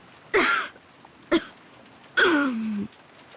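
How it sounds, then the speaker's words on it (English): A character in a visual novel game coughs three times, close and clear. The first two are short bursts, and the last is a longer, rasping throat-clearing cough. "Eva suddenly started coughing."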